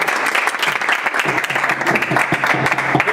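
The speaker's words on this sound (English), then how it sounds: "So clap for her." Dense clapping from an audience gathered in a gingerbread museum in Toruń, steady and fairly loud throughout the short stretch.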